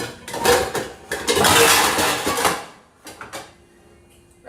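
Metal pots and pans clatter and bang loudly in a kitchen cupboard as a big cooking pot is pulled out, with a cluster of clanks, a sustained rattle, then a few quieter knocks.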